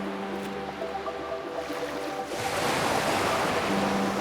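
Ocean waves wash in under a soft tonal musical backdrop, building from a low rolling surge into a louder, broad hissing rush of surf partway through that holds to the end.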